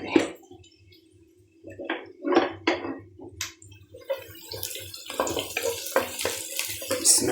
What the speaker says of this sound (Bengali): এবার শাকটা দিয়ে দিই। তেল গরম ছিল, তাড়াতাড়ি ভাজা হয়ে গেছে।